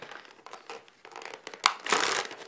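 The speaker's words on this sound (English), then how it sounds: "if I can get it out without tearing the rest of the packaging open" Plastic packaging crinkles and tears up close while a TI-84 Plus C Silver Edition calculator is pulled from its case, in soft irregular rustles that end in a louder crackling burst.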